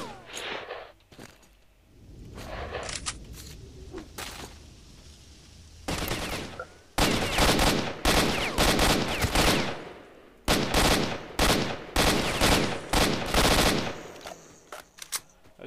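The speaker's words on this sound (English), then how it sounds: "I don't know why I just shot all of those rounds." Gunfire in STALKER: Shadow of Chernobyl during a swamp fight, with loud, rapid automatic bursts repeating in close succession, separated by brief pauses and quieter movement sounds.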